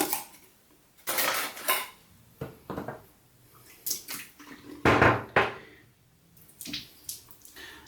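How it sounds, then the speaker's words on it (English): A wet shaving brush is knocked against a hard surface near a sink during a straight razor shave, giving several sharp clattering knocks in bursts separated by brief quiet gaps, close and distinct. "Knocked out the water from the brush."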